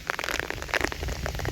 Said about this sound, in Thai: อะไรฝนนี่